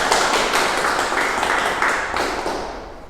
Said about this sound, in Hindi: एक जोरदार स्वागत के रूप में उनसे तालियों से स्वागत की जाए